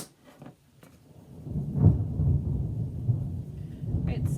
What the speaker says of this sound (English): It's threatening to storm